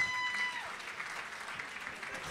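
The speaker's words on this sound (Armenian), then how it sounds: "Եկեք ծափարենք" A studio audience on an Armenian talk show breaks into brief applause, a soft steady patter of clapping heard at moderate distance, with a voice faintly present.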